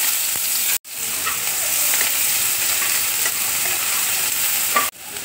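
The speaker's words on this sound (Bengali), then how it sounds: "কড়াইয়ে দেখো তেল দিয়েছি, তেল দেখো গরম হয়ে গেছে। এবার আমি পেঁয়াজ কুচি দিয়ে দিচ্ছি।" Steady, loud sizzling of chopped onions frying in hot oil in a wok, a continuous crackling hiss with a brief cut near the start and end.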